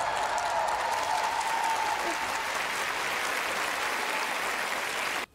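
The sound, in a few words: stadium crowd applause after the national anthem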